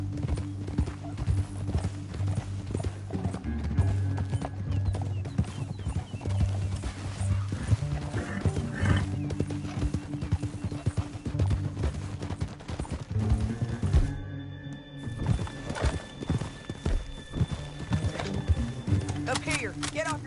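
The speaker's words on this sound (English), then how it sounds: "Up here, get off your horse." Horses gallop with steady, rapid clip-clop hoofbeats in the Western video game Red Dead Redemption 2, a loud continuous rhythm over a music score with occasional whinnies and distant gunfire.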